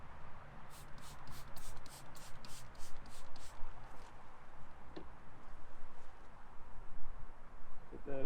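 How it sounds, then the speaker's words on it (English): A spray bottle hisses in a quick run of about nine short squirts of sugar water onto an empty beehive frame close by, followed by rustling and handling noises. "Spray this with a little sugar water."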